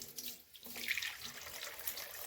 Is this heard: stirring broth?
no